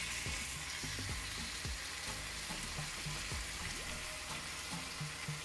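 Broth poured around the sides of a hot skillet of potatoes sizzles and crackles steadily at a low, close level, with faint stirring or liquid clicks and no voices.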